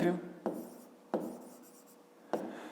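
A pen or chalk scratches out a few short strokes while a math perimeter problem is written down, each stroke a sharp onset fading quietly, in an otherwise quiet room.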